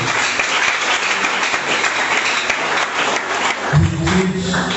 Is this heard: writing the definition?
no